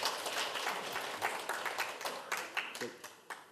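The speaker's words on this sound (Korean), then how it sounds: "큰 박수 다시 한번 부탁드립니다." A crowd at a forum claps and applauds, a dense burst of hand claps that thins into scattered sharper claps toward the end.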